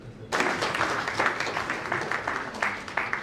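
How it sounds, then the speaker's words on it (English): Audience at an award ceremony breaking into applause, sudden onset of steady, dense clapping that continues throughout. "Please join me in applauding"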